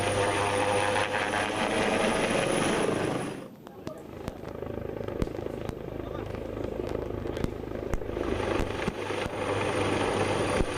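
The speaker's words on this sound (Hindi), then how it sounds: "हेलीकॉप्टर में अचानक कंपन की ये तस्वीरें जो हैं वो सामने आई कर्नाटक से" A helicopter carrying Karnataka's former chief minister shakes suddenly in flight, giving a loud, continuous rotor and engine roar that briefly dips before returning. A voice speaks over the noise.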